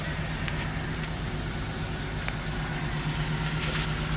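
A used car bought at an insurance auto auction for $500 idles steadily nearby, with a continuous low engine drone and a few faint clicks on top.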